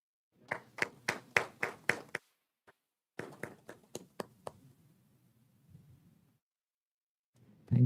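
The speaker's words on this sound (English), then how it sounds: "So big round of applause for them." Applause from a quiz-competition audience during an HR panel event: a short burst of sharp, fairly close hand claps, then a second thinner round that fades into quiet room murmur.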